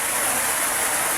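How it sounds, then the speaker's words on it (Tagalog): Heavy rain drums steadily on a roof, a dense continuous hiss that fills the short stretch without any voices. "Hanggang dito na lang muna kasi maingay yung ulan"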